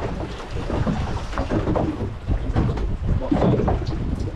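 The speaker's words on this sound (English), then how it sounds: "Rain falling and cool." Rain falls steadily in open air on a fishing trip at sea off Trinidad and Tobago, a dense wash of drops with low rumbling under it like distant thunder, continuous and fairly loud.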